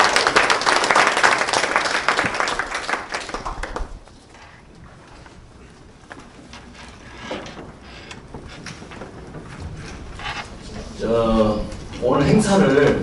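Audience applause at a launch ceremony in Gwangju for the 160th anniversary of Koryo-saram and Korean migration, loud clapping for the first few seconds that fades into quieter room noise, followed by faint rustling and a return of talk near the end.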